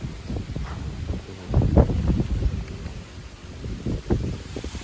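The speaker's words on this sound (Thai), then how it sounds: "ลมแรงมากครับดูจะยังไงกลางทุ่งนาเลย" Strong wind sweeps across an open rice field in Rasi Salai district, Sisaket, roaring and buffeting the microphone in rough low rumbles, with a louder gust surging near the middle, no voices.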